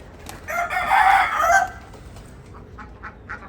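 A rooster crows loudly once, followed by scattered soft clucks from hens nearby in a coop.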